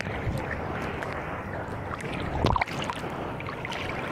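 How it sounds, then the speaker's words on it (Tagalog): Strong sea waves wash and churn at the Abu Dhabi Corniche public beach, a steady close rush of water with wind buffeting the microphone and a louder surge midway. "Malakas yung alon ah."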